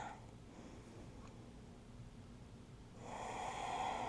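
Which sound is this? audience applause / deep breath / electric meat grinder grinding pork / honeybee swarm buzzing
deep breath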